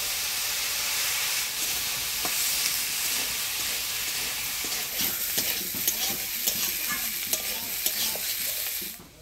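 Vegetables and green peas frying in a hot pan while being stirred: a continuous close sizzle and hiss, broken by scraping and clinking stirring strokes that grow more frequent toward the end.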